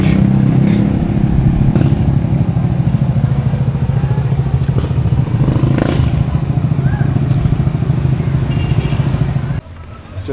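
A motorcycle fitted with crash bars and fog lights rumbles along on a test ride, a steady, loud engine drone with wind buffeting that cuts off abruptly near the end.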